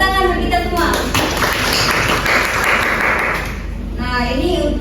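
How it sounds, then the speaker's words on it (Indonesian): A classroom group claps hands together in a short burst of applause. Speech is heard before and after, and a voice carries over the clapping. "Tepuk tangan untuk kita semua."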